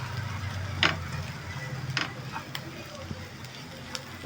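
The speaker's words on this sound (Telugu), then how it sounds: "ఇదంతా బాగా కలిసి వేగాలి." A rice mixture with drumstick leaves frying in a pan, a low continuous sizzle up close with a few scraping stirs, while a voice talks over it.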